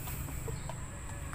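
Older backyard pet chickens in moult cluck in brief soft bursts over a steady low background hum, close by with no talk.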